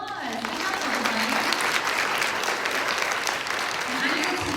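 A school spelling bee crowd gives a round of applause after a practice round, a continuous wash of many hands clapping at even loudness throughout, with some voices mixed in.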